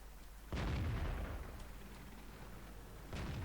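A heavy tank cannon blast in World of Tanks, with the Super Pershing taking hits from behind among rocks: a sudden loud boom at about half a second, a long rumbling decay, then a second shot near the end.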